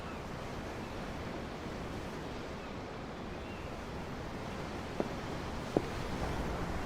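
Ocean waves in Tales of Arise, heard from aboard a ship: a steady, soft wash of surf and wind noise throughout, with two brief faint knocks near the end.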